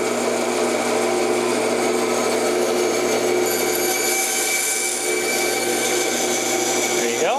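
Power tool making relief cuts about an inch apart in a dragster body, a steady continuous whine held close and loud throughout without pause.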